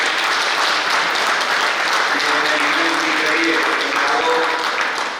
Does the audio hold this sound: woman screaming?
no